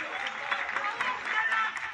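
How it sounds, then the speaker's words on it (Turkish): Spectators in the stands at a youth U13 football match applaud after a goal, a steady wash of clapping from a crowd at some distance, with a commentator talking over it. "Çok da büyük alkış aldılar tribünlerden."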